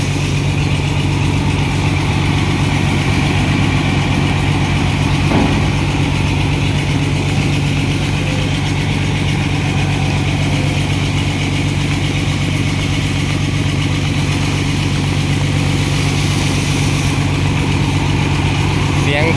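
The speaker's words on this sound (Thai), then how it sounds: "เสียงเครื่องสูบน้ำซิ่งนะครับ คันหนึ่ง" A water pump engine runs at a steady, even drone, loud and close, with a deep low rumble that holds unchanged from start to finish.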